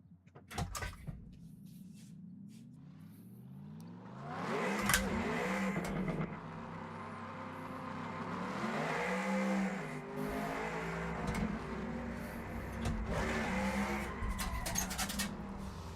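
A BMW M3 drifting in a driving game, its engine revving and droning through long slides with tyre squeal rising and falling, a steady loud mechanical tone with shifts in pitch.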